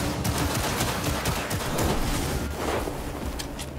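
The player's gunfire in Cyberpunk 2077 rattles as a dense, continuous run of rapid close shots, loud and almost unbroken throughout.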